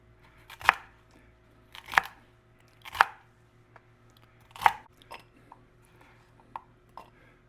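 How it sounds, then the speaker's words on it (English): A knife rough-chops celery on a cutting board, giving four or five sharp, crisp crunching strikes at uneven intervals, close and fairly quiet, with near silence in between. "For the celery, I'm going to cut off the ends. And again, do sort of a rough chop."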